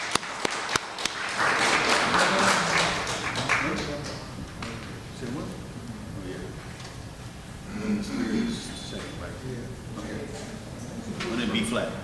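A church congregation at the Art of Living Church of Religious Science applauds a returning musician with a swell of clapping early on that fades under talking and shuffling noises, then briefly picks up again.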